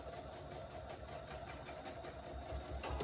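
A sewing machine runs steadily while stitching a scrappy star quilt block diagonally, a faint, continuous mechanical whir with a fine rapid pulse and no talking.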